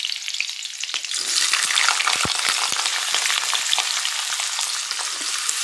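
Onion greens with potato and green chillies frying in a pan, a loud close sizzle that swells after the first second, broken by sharp stirring scrapes.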